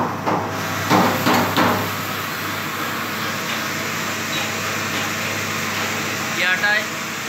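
Flour mill cyclone system running as flour flows through, a steady whooshing mechanical hum with a few knocks and thumps near the start, while someone speaks over it.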